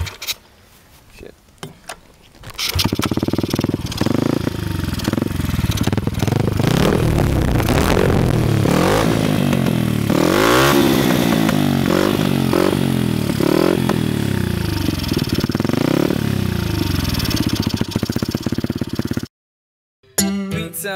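2007 Honda CRF50F pit bike engine revving loudly and close, rising and falling in repeated throttle blips with rattling clatter, after a quieter start and ending in a sudden cut.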